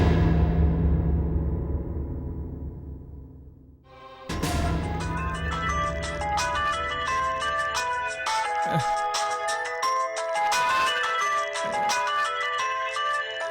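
A melodic phone ringtone plays on and on at midnight, a clear tuneful electronic melody that starts abruptly after a fading tone and keeps repeating without speech.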